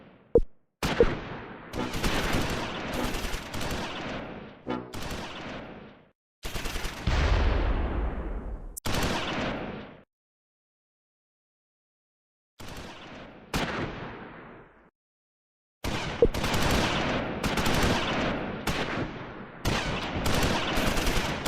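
Medium machine gun fire in Close Combat 4, set in the Battle of the Bulge at Esch-sur-Sûre in 1944: several loud, close bursts of rapid automatic fire, each lasting a second or two and separated by silent gaps.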